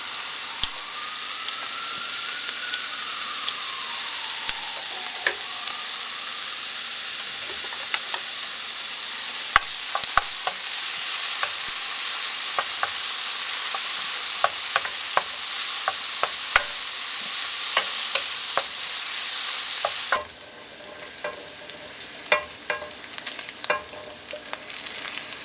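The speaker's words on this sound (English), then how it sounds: "I still want to keep the drippings, and then we'll just put the bacon aside." Bacon sizzles and fries steadily in a pan while being stirred, with scattered scraping clicks over a constant close hiss; the sizzle drops noticeably quieter near the end.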